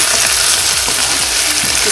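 Continuous close-up sizzling and crackling of koi fish pakoras frying in hot mustard oil, steady and loud with no voices.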